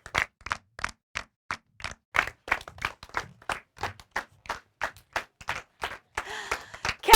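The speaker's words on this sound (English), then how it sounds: "Start clapping." Children clap in a steady, evenly spaced rhythm of sharp, close hand claps, about three per second, before the claps break into a brief burst of looser clapping and noise at the end.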